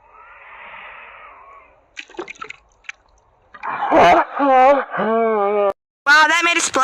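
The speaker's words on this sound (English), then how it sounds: "Wow, that made a splash, Chelsea, didn't it?" A short, soft watery splash of someone jumping into a shallow lake at a camp, followed by a few small clicks and then voices talking close by.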